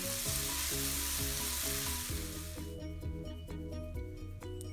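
Onions fry in oil with ginger garlic paste for a Tamil-style spicy chicken drumstick curry, giving a loud, steady sizzle with occasional stirring scrapes close by and no talking.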